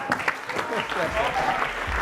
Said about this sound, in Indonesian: Tepuk tangan buat Katie.